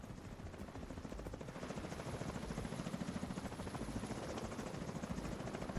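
Helicopter rotor in The Division 2, a steady, loud rhythmic chopping thrum that holds throughout with no talk over it.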